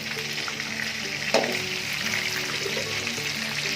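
Chicken pieces frying in oil in a pan for Mongolian chicken, a steady bubbling sizzle throughout with a brief clatter partway through.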